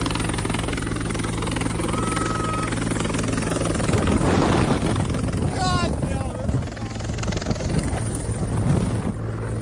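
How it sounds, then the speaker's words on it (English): A helicopter hovers low over the snowy National Mall with a constant loud rotor and engine drone, while people talk over it. "You know the whole helicopter stirring up the snow and blowing it in your face thing?"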